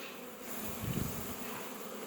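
Honeybees, including many drones, buzzing in an opened hive box, a dense close hum that swells briefly and holds steady throughout.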